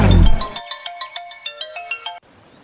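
A phone ringtone plays loud and near as an outgoing call rings, with a steady series of bright melodic chimes that cut off abruptly, leaving quiet room noise.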